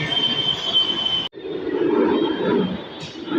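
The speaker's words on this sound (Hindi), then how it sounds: "फाइनली गाइस मेट्रो भी आ गई है" A Delhi metro train arrives at a station, its wheels letting out a loud, sustained high squeal over a deep rumble that continues after a brief sharp break.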